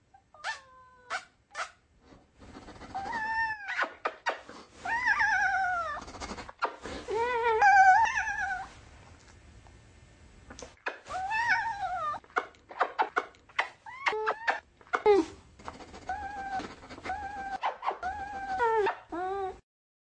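A cat lifted a few inches yowls in a long string of wavering, rising and falling cries, broken by brief gaps and sharp clicks, close and loud, with no talking.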